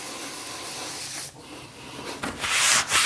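Vinyl plank flooring rubbed with water to remove scratch marks gives a close, continuous scrubbing hiss with a few uneven strokes, brief and unaccompanied by talk.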